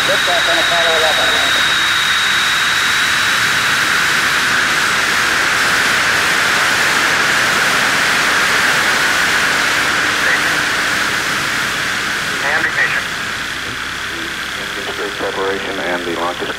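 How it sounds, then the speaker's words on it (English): Apollo 11 rocket at liftoff, a broad continuous roar of engines with hiss, with radio voices of launch commentary over it throughout. "All engine running. Liftoff. We have a liftoff."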